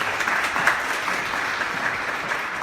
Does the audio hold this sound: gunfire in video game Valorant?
no